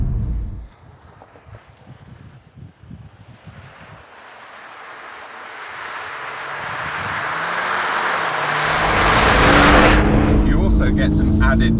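Volkswagen Golf R 20th Anniversary under way on the road, engine note and road rumble building steadily as it pulls through the gears, with a rising rev sweep and wind noise toward the end.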